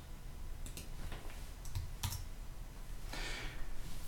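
Typing on a computer keyboard in an R console: scattered light key clicks come in small clusters, quiet and close over a low background hum, with no talking.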